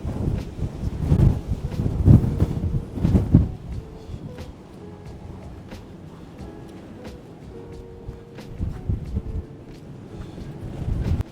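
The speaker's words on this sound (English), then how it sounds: "Yeah, there is some wind here. 60 km/h, brother." Strong gusting wind of around 60 km/h buffets the microphone on a mountaintop at the highest point in Germany, a low rumbling roar that surges and eases with no talking.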